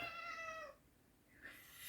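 A house cat gives one clear, drawn-out meow that fades, then a second shorter mew follows after a brief pause, both fairly quiet and close in a calm indoor room.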